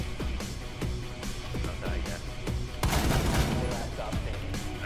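Video game gunshots: a rapid run of sharp shots, then a louder, denser burst of fire partway through, followed by a few scattered shots.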